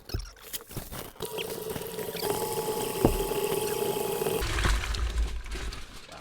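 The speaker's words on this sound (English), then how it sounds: "definitely spilled water everywhere" Water splashes and pours in a home kitchen while homemade butter is washed, with irregular sloshing spills and a steadier running pour in the middle, fairly close and moderately loud.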